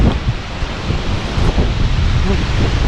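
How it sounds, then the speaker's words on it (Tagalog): Steady wind buffets across a forest viewpoint in the mountains, a continuous broadband rush with microphone rumble, loud and close throughout, with no clear voices. "Pakasarap na hangin."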